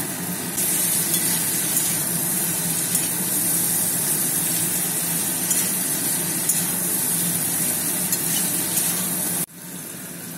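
Boiled potatoes fry in a pan for Bengali aloo dam, a loud, steady sizzle and crackle holding for several seconds before suddenly dropping to a softer hiss.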